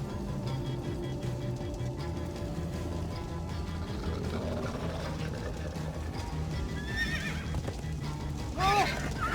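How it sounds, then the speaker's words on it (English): A horse in Minecraft: Story Mode whinnies near the end over the ongoing clip-clop of hooves, with a low rumbling game backdrop throughout. "Slow down, horse!"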